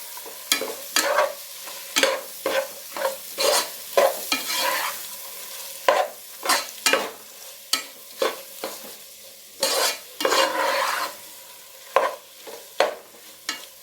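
Tomatoes cooking down in oil for mutton biryani, stirred in a steady rhythm. Repeated scrapes and swishes of the spoon come roughly every second over a continuous hiss of sizzling.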